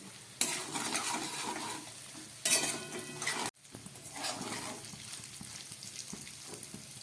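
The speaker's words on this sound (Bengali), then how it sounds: "সমস্ত মশলা দিয়ে আমার সবজিগুলো ভাজা হয়ে গেছে" Mixed vegetables fry with spices in a pan, a soft sizzle under bursts of stirring and scraping against the metal, with louder clatter around the first and third seconds and a sharp cut midway.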